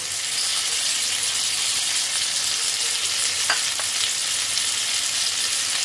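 Diced onion frying in a pan for an egg and eggplant dish, a dense, even sizzle holding steady throughout, with a couple of brief spatula scrapes midway.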